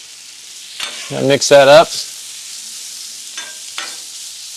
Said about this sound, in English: Put that down with our pork chops. We wanna get them going. Yeah, there you go. Hear that sizzle.